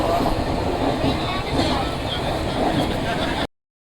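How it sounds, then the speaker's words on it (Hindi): The Nagpur–Indore Vande Bharat Express runs at high speed through a railway station, giving a loud, steady, broadband rush of rail noise that fills the clip and ends abruptly, with no speech over it. "वो जा रही। नागपुर इंदौर वंदे भारत एक्सप्रेस।"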